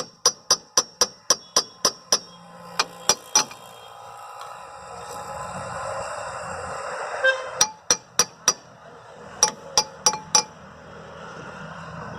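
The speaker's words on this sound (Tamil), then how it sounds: "இப்போ ட்ரம்மை மாட்டியாச்சு" A brake drum is fitted onto the wheel of an old-type TVS King auto rickshaw with bright, ringing metallic taps in fast runs, a quieter stretch of shuffling in the middle, then more taps.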